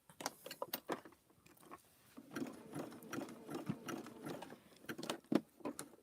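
A sewing machine stitches batik fabric-wrapped rope into flower petals, running in short, quiet bursts of rapid mechanical clatter separated by pauses, close by with no talking.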